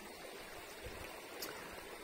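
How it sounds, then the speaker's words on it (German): A stream flows continuously in a quiet outdoor setting, a soft, steady wash of water with faint trickles, moderately distant and low in level throughout. "Leider kann ich doch nicht mit euch durch den Bach gehen."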